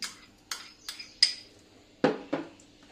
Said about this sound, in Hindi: अभी हम सब इंग्रेडिएंट्स मिक्स करके आपको दिखाते हैं।